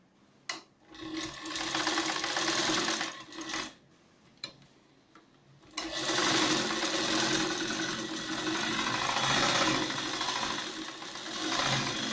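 A sewing machine stitches the lining of a katori blouse in several runs, whirring steadily for a few seconds, pausing briefly, then running again in a longer continuous stretch, close and loud.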